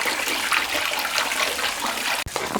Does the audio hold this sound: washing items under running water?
yes